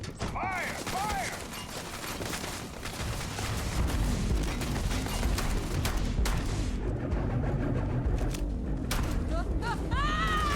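Gunfire in Starfield: dense, loud bursts of rapid shots and mechanical clatter, steady and close, with game sound effects and chirps over it.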